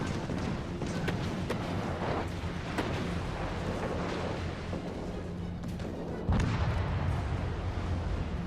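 Secondary guns of the Graf Zeppelin blazing away in World of Warships Legends, a dense run of booming naval gunfire with repeated sharp reports over a constant rumble of battle, growing louder and heavier toward the end.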